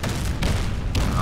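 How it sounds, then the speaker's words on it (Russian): Heavy bombing explosions in the Warface shooter game: two sharp, booming blasts land over a dense, continuous low rumble of battle. "Бомбежка."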